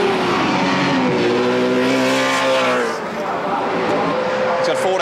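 Race cars at a televised motor race in 1992, engines droning steadily as they run close together, one trailing a black car, heard under continuous excited commentary and talk.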